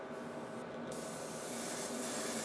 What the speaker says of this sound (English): My air compressor setting is at about 25 PSI to spray the paint.